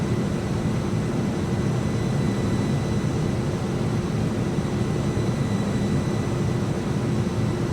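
Airbus A300-600 jet engines on approach to landing, a steady broadband roar with a low rumbling core that stays loud and even throughout, heard from inside the aircraft.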